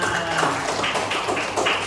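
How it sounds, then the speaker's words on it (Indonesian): A classroom group gives a short round of clapping for everyone after a clap exercise: a quick run of light, rapid claps and taps, moderately loud and close, lasting under two seconds. "Ya, tepuk tangan untuk kita semuanya."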